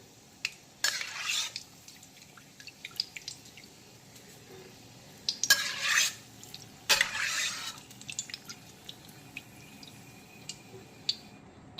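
Fried cashew nuts are lifted out of hot oil with a metal spoon, sparse clinks and scrapes against the pan with soft dripping and quiet pauses between, close by and without talk.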